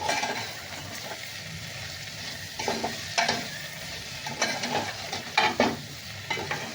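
A spoon scraping and stirring masala khichdi with homemade garam masala in a hot pan, irregular scrapes and knocks over a soft ongoing sizzle, close and alone without talk.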